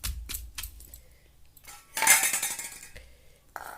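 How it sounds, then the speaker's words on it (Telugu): Green chilli chutney being pounded in a stone mortar for a raw mango relish, heard as several sharp, close knocks and scraping clatters with pauses between strikes. "బాగా మెత్తగా మెదిగేదాకా బాగా ఇట్లా దంచుకోవాలండి."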